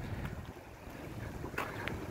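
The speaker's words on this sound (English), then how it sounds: "We got water running through this culvert here." Steady rushing floodwater gurgles continuously through a road culvert, close by, with a low rumble and a bit of wind buffeting the microphone.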